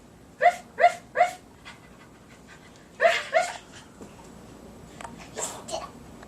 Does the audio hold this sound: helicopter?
no